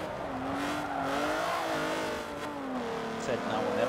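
A van's engine races in Forza Motorsport 7, a steady droning whine that climbs and dips in pitch and sits under a person's talk.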